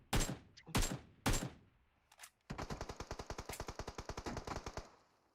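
Gunfire in the PUBG battle royale game: three loud single shots with a short faint burst, then a fast rapid-fire automatic string of about twenty evenly spaced cracks, close and alone without talk.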